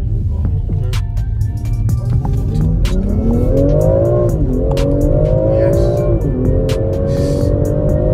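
A BMW X3M pulls hard under acceleration, its engine note climbing through several gear changes with sharp clicks and thumps, loud and close from inside the cabin.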